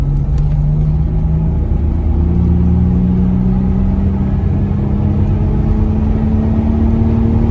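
A Toyota Landcruiser with a bigger Garrett turbo makes a full-throttle third-gear pull from about 1200 RPM, its loud droning engine steadily rising in pitch across the whole stretch, recorded from inside the vehicle with no talking.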